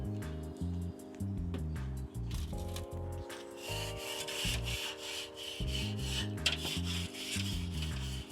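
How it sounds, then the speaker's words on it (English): Smoker grill grates scrubbed clean with steady back-and-forth rubbing strokes, close and continuous over a low droning hum. "I have to clean the grates now."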